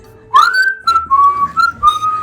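A person whistles a loud, sustained tune in a few long held notes with short breaks between them, clear and close with no talking.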